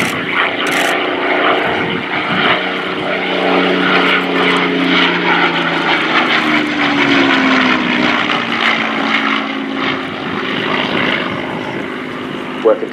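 A Hawker Hurricane propeller fighter of the Battle of Britain Memorial Flight drones overhead at the RIAT 2018 airshow, its piston engine rumbling steadily and shifting in pitch as it passes, with a voice talking over it.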